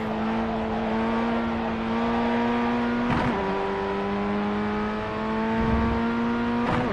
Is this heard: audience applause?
no